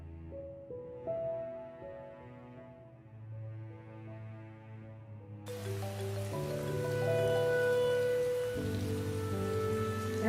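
Heavy rain falls steadily, the hiss swelling fuller partway through, beneath sustained tonal background music.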